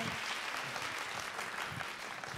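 Live-broadcast studio audience at a KBS year-end public radio show applauding a rapper after his performance; steady, dense clapping through the whole span, moderately distant.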